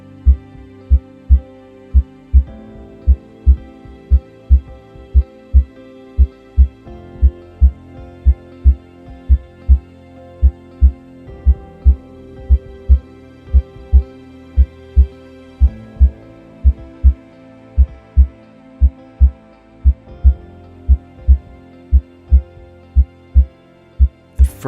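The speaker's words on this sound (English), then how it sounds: "The first sound we hear in the womb is our mother's heartbeat." A steady, loud heartbeat thumps in an even rhythm, roughly one beat every second or so, over a low soft hum with no voices.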